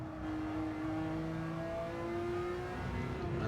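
A Ferrari F40 engine races on track in Gran Turismo 7, a steady, loud, high-pitched drone of a car at sustained revs with tonal whine and slight pitch shifts, no talking.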